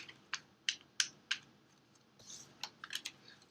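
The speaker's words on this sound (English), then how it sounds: "Shuffle those back in." Tarot cards are shuffled close up: a quiet series of crisp clicks and snaps in an irregular rhythm, with a brief soft riffle between them.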